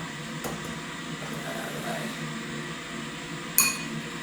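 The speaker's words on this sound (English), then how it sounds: "I'm going to get a fork out." A sharp metallic clink of a fork against a dish rings out once near the end, over a low steady background hum.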